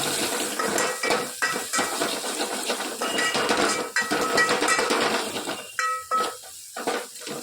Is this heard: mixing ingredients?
yes